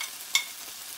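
Ground spices being stirred into tomato masala frying in a pan for white peas ghugni: a soft continuous sizzle with one sharp scrape of the spoon near the middle, close and alone.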